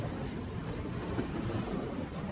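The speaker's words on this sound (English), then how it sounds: "we end up being on the train for a while" Train riding along the rails in the Call of Duty Warzone video game, a steady low rumble of wheels rolling on track that holds even and close throughout, with no voices.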